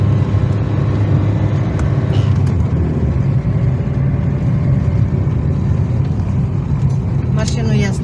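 A car engine hums steadily from inside the cabin as it drives along before parking, with someone talking over the constant road noise.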